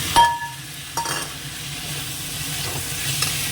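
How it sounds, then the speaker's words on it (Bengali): Onion and green chillies fry in a pan with a steady hiss, while a few sharp clinks of a spoon against the metal come as they are stirred. "কিছুটা ভাজা হয়ে গেছে, এবারে পেঁয়াজ কাঁচা লঙ্কাটা দিয়ে দেবো।"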